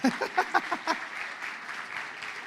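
A crowd claps at a 40th-anniversary church family gathering. A voice is heard briefly at the start, then a steady, moderately loud wash of applause follows.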